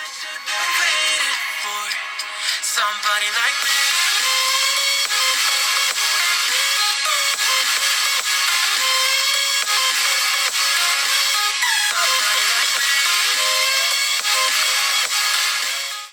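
Music plays continuously from the small stereo speaker of an iQOO Neo 6 phone, bright and thin with no bass, holding a steady loud level throughout.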